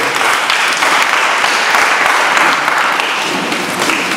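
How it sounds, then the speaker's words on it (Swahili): A church congregation claps for the Lord during a worship service, dense sustained applause filling the room evenly for several seconds with no one speaking over it. "Hebu mpe Bwana makofi."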